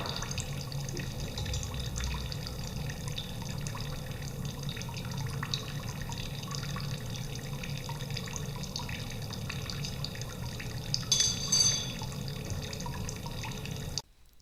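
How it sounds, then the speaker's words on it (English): Water drips steadily into a sink from a standpipe that is not watertight, a quiet repeated plinking over a faint running-water background in a lab-style setup, with a slightly louder splashy moment near the end. "why the water is dripping in the sink, it's simply because I want to keep a constant water level in the sink, and the standpipe is not completely watertight"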